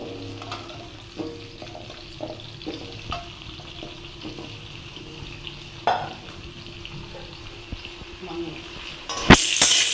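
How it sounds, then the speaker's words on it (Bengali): Potatoes fry in oil in a kadai, sizzling steadily with occasional clinks and stirring scrapes, ending in a louder burst of hissing. "আলুটা আমার ভাজা ভাজা হয়ে গেছে।"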